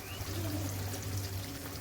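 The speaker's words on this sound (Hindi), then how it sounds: "थोड़ा सा इसमें तकरीबन 1/4 कप इसमें मैं पानी ऐड करूँगी" About a quarter cup of water poured into a chicken handi on the stove, a short steady pour with a gentle trickling splash, close and clear with no talking.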